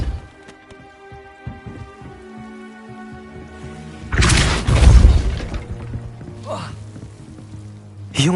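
Depulso spell impact in Hogwarts Legacy, a sudden loud crashing burst with scattering debris rising out of a soft tonal game-music bed, followed by a couple of smaller whooshing hits.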